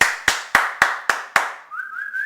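Six sharp, evenly spaced hand claps ring out close and loud to wake puppies in a cage, followed by a brief rising whistle at the end.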